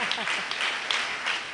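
An audience in a Tamil church service gives a short burst of applause, a dense patter of many hands clapping that stays even and fairly close throughout.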